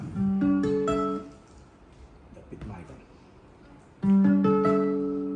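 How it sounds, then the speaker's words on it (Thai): Bowed electric violin tones over a wireless system through an Acoustic A Class amp, rich and sustained, breaking off for a stretch of low talk before another loud bowed phrase returns. "เราฟังเสียงไวลินนะครับ"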